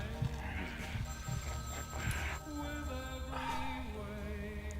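Telephone ringing in a video game, a repeating electronic ring with sustained tonal chimes layered over low background game noise, fairly faint and steady.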